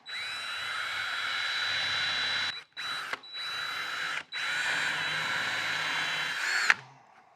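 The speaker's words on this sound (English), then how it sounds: "just using a countersink bit, it's going to drill into that and countersink them a little bit." A power drill fitted with a countersink bit bores into wood on a workbench in three loud, steady bursts with short pauses between, the last ending in a brief high whine as the bit seats.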